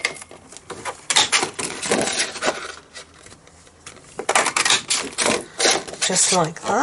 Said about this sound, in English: I'm going to be using, firstly, the daisy punch, which is this one here. And we're going to cut out two daisies.